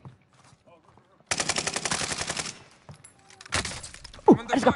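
Video game gunfire crackles in two loud bursts of rapid automatic fire separated by a quieter stretch, then a final sharp shot, with voices faintly present.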